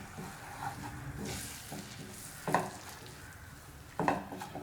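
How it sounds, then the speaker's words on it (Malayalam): Gram flour being stirred into melted ghee in a pan for besan ladoo, a soft scraping stir with faint sizzling and a couple of sharper spoon knocks against the pan, quiet and close with no talk. "കടലമാവ് ചേർത്ത് കൊടുത്തതിന് ശേഷം നന്നായിട്ടൊന്ന് മിക്സ് ചെയ്തെടുക്കാം."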